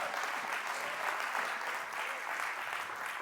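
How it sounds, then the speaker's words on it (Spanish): Church congregation giving warm applause to welcome a speaker, a sustained dense wash of clapping from a large audience heard steadily throughout. "Así que recibamos con un caluroso aplauso, por favor, a doña Pati."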